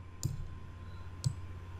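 Two crisp, quiet computer mouse clicks sound about a second apart against a low, steady room hum, with no voices.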